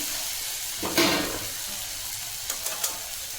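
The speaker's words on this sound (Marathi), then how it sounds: "दोडका टाकून घ्यायचा आहे फोडणीसाठी याला पण छान असं तेलामध्ये दोन ते तीन मिनिट परतून घ्यायचं आहे" Ridge gourd frying in oil in a pan for a Maharashtrian curry, a steady soft sizzle with a brief louder stir near the start and a few light clinks later.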